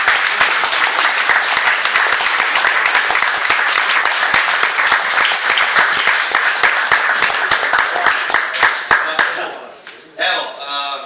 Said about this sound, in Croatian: Molim ja aplauzom.